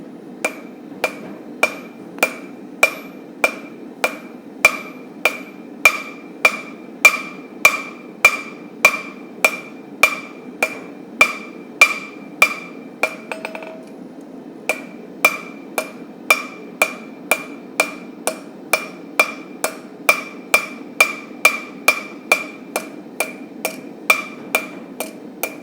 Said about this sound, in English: You can see that as I'm hammering, I'm pushing.